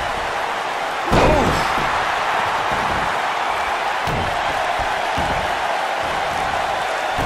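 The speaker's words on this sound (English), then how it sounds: "I don't remember the last time I heard a more passionate crowd than the one we have here tonight." A wrestling arena crowd in the WWE 2K19 video game roars steadily through a Starrcade pay-per-view, with a loud slam on the mat near the start and a few fainter thuds under the continuous cheering.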